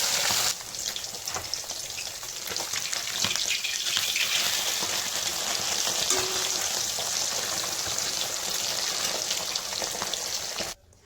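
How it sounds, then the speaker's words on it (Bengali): Fish pieces fry lightly in hot oil. A dense, loud sizzle starts abruptly, holds steady for about ten seconds, then cuts off. "এখন মাছগুলো ভেজে নেব।"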